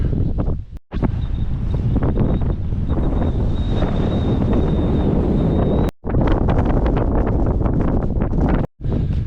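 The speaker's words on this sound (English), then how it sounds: "the wind's pretty spicy this morning." Strong morning wind buffets the microphone on Stanage Edge in the Peak District during a wet winter wild camp, a loud continuous roar broken by two short lulls.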